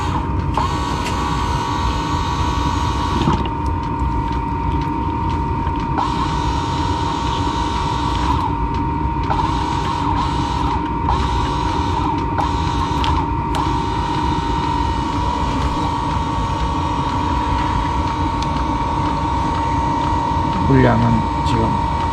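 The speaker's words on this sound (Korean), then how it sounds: "모터를 강제로 가동시켜 보겠습니다" Steady mechanical hum of the pump motor on a water-heating diesel parking heater being forced to run, a constant loud drone with a faint rattle near the end and no talking.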